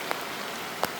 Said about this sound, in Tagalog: Bigla na naman lumakas yung ulan.